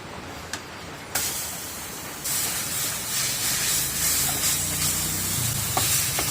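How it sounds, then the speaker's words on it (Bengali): Velvet apple fruit frying lightly in a little oil gives a bright hissing sizzle that starts softly and swells louder, with faint stirring clinks and no talking. "এখন আমি হালকা তেলের উপরে গাবগুলোকে একটু ভেজে নিচ্ছি"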